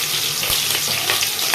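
Chopped onions and green chillies fry in hot oil in a pan for Telangana-style bagara rice, giving a steady, close crackling sizzle.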